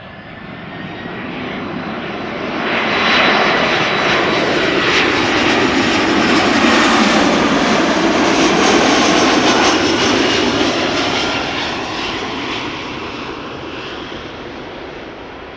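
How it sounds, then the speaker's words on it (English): A loud Airbus A330 jet engine roars steadily on arrival at Amsterdam Schiphol Airport, swelling to a peak midway and then easing off, with a broad whooshing drone and no voices. "A330 aka leaf blower for me because of the noise they make"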